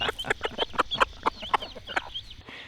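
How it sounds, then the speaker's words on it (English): A mother chicken with two chicks at a doorway begging for food clucks in a rapid series of sharp, close calls, about a dozen clucks in under three seconds, with faint peeping in the background. "This mama chicken brings her 2 babies right up to the door and begs for food."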